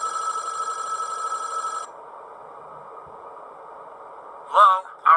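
An in-game telephone rings in the horror game Five Nights at Wario's, a sharp repeating electronic ring with strong tones for about two seconds, then a quieter hum before a short voice or sound blip near the end.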